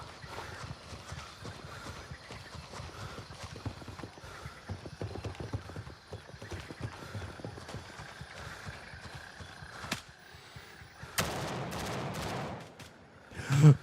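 Gunfire from a 74M weapon in the Gray Zone Warfare video game: dense, rapid clattering reports run steadily throughout, then a louder, heavier burst of fire swells near the end.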